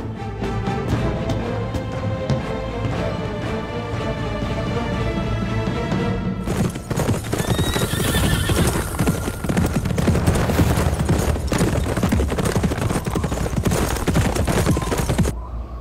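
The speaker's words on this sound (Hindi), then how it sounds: "उस्मान अपने घोड़े पर शुमाल की जानिब जा रहा है।" A horse gallops with rapid hoofbeats under a dramatic music score, ridden by a horseman in a historical drama; a loud, dense action soundtrack swells midway and keeps the hooves partly masked, with no neigh clearly standing out.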